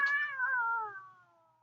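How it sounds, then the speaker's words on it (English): A cat whining with a single drawn-out meow that slides downward in pitch and fades, close and clear with no other sounds. "our cat is whining"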